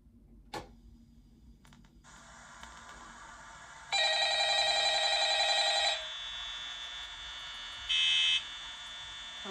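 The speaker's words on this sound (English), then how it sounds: "Hello, answer the phone." An old-style telephone in the horror game Five Nights at Freddy's rings in electronic buzzing bursts, one long ring of about two seconds followed later by a shorter one, with quiet hum before the first ring.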